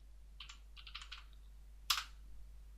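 Keys are typed on a computer keyboard to enter a command: a short run of quiet clicks followed by one sharper keystroke, faint and close in a quiet room with a low hum.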